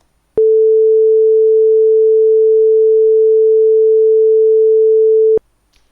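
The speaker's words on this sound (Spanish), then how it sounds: "Ese es el sonido de una senoidal perfecta a 440 Hz." Pure 440 Hz sine tone, a single clean, steady pitch held at constant loudness for five seconds, starting and stopping abruptly against silence.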